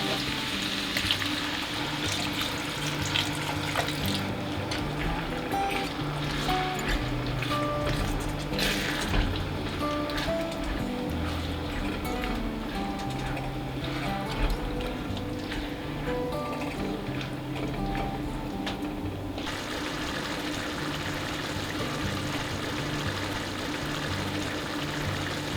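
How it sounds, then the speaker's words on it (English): Vegetable stock poured into a pot while making creamy chickpeas, a steady watery pouring and splashing that runs continuously at moderate loudness with a faint ticking in the background. "And now I'm going to add some vegetable stock."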